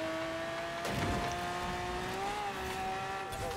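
A car racing along at speed in Forza Horizon 4, a steady engine note held in a high gear with a brief tire scuff, heard fairly quietly throughout without talk.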